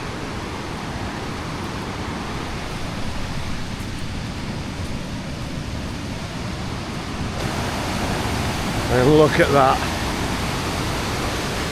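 Water pours over a weir on the River Trent in Nottinghamshire with a loud, steady, broad roar that swells slightly as it draws closer. Someone speaks briefly over it.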